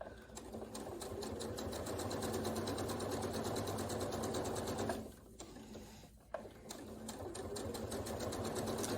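A longarm quilting machine sew-bastes a quilt, its needle running in a fast, even mechanical chatter that stays steady, briefly dips and pauses, then resumes at close range.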